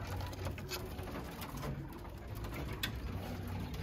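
Quail on a farm calling, soft repeated cooing notes over a constant background hum, fairly close.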